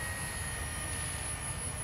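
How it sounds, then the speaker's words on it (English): A small Walkera V120D05 flybarless 2.4 GHz RC helicopter flies 3D manoeuvres, giving a steady, continuous whine with a broad airy rotor hiss and a thin high tone held at an even level throughout. "small little helicopter doing 3D"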